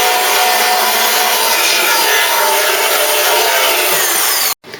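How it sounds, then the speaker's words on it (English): Two-part weld-through primer for a Mk3 Cortina restoration is mixed, probably by a powered mixer, giving a loud continuous whirring and grinding drone close by that stops abruptly near the end. "the 2 parts weld through primer, and we're just giving that a mix"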